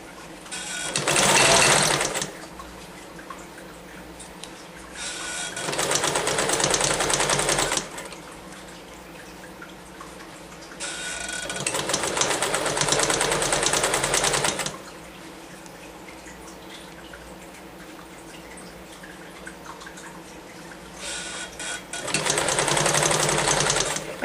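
An older all-steel sewing machine hems jeans in several loud bursts of fast whirring stitching, each lasting a few seconds, separated by quieter pauses.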